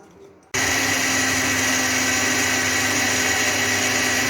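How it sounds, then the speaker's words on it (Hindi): An electric chopper whirs steadily as it crushes Oreo biscuits, a loud continuous motor hum starting abruptly after a short quiet moment and holding at constant pitch. "इसके बाद इसको चॉपर में या किसी प्लास्टिक बैग में डालकर बेलन की मदद से छोटा छोटा कर लें।"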